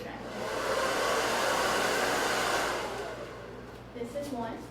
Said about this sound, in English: You have to have a professional blow dryer.